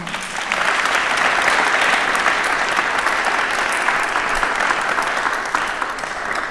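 Sustained applause from a crowd at a Karsh Institute event fills the room, steady and dense clapping that holds for several seconds before tapering slightly near the end.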